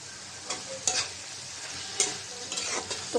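Potato and tomato masala sautéed and stirred in a pan for a fish curry, giving a steady soft sizzle broken by several sharp scraping stirs at irregular intervals, close by with no talking.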